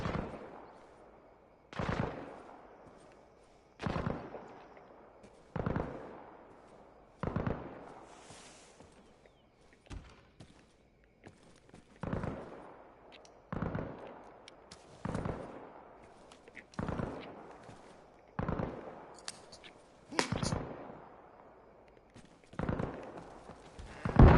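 Grenade blasts and gunfire in the video game Arma Reforger: a steady series of about a dozen sharp, loud explosive bangs, evenly spaced every couple of seconds, each followed by a short fading tail, with no talking.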